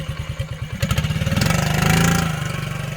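A 1999 Honda Z50 small motorcycle engine idles with a quick, even putter, then revs up briefly into a louder, smoother drone before easing back.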